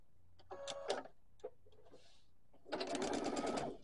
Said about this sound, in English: So I'm going to sew for just a second.